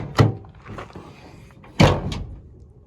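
A 2014 Toyota Tundra tailgate with a broken strut assist drops open unchecked, landing in two loud, hard thunks about a second and a half apart, close by with no one talking.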